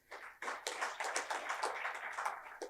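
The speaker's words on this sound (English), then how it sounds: "to the tech team over here, a big round of applause" Applause at a TiE Mysuru business masterclass on AI, following a call to thank the tech team: a short burst of quick, crisp hand claps from a modest audience, fairly close and steady for nearly three seconds.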